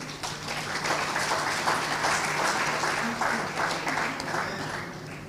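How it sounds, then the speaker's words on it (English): An audience applauding at a talk on the United Nations and women's status, with a dense, continuous clapping crowd that stays steady and fairly loud before easing off slightly near the end. "I think the UN needs an applause."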